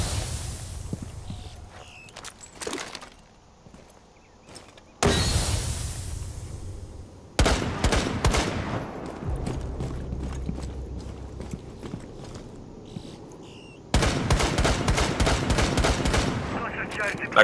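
Bursts of automatic gunfire in Rainbow Six Siege during a team deathmatch secure-area round at Bartlett University, sharp rapid volleys alternating with quieter stretches and footsteps, with players talking over it.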